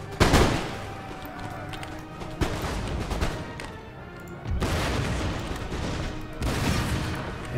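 Musket volleys in the Empire: Total War battle at Flanders fields, French line infantry firing at will: loud overlapping crackling bursts of gunfire, with booming salvos at the start and again around five and seven seconds, dense and continuous.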